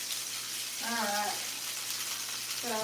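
Oxtails searing in a hot pan in a home kitchen, a steady close sizzle throughout with a voice speaking briefly over it twice.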